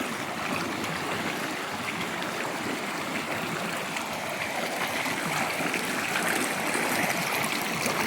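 A mountain stream at a forest creek crossing, water rushing and splashing in a steady, dense wash that stays loud and continuous throughout without a break.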